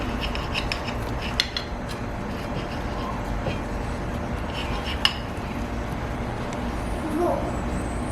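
A fluffy cheese omelette is cut on a serving plate, with faint cutlery scrapes and a few sharp taps of utensil on the plate against a quiet kitchen background.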